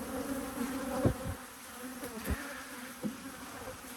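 Honey bees crawl and buzz over a hive frame, a close, steady hum with a few brief knocks from the frame being handled.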